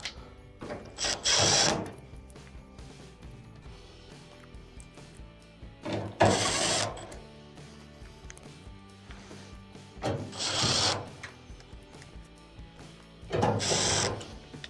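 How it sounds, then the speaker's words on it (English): Screws being driven back into an LG dryer during a flame sensor repair, four separate bursts of a power driver whirring, each roughly a second long, separated by quiet pauses with faint handling clicks, close up and without speech. "Let's go ahead and reinstall our screws."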